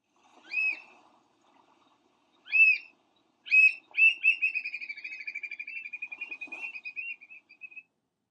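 Loud, sharp whistled calls of an American oystercatcher, a shorebird found around Ocean City and Assateague: three separate piping notes, then a long, rapid rattling series of piping calls fading out near the end, with no other sounds around them.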